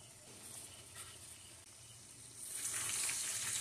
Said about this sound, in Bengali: মাছগুলো আমি ভালো করে নেড়ে চেড়ে কষিয়ে নেব।